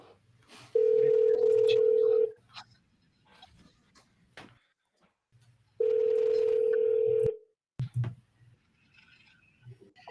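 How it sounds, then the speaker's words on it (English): A telephone dials out on a sales cold call, with two long, loud steady ring tones separated by a quiet gap, plus faint clicks and soft background room noise. "Dialing away."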